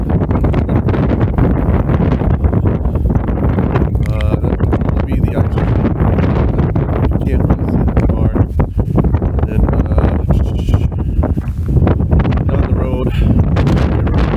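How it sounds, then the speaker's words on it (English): Gusty wind buffets the microphone outdoors, a loud, continuous rumbling roar that swells and dips throughout, with a person talking over it at times. "it's getting kind of breezy on this side, so hopefully you can hear me"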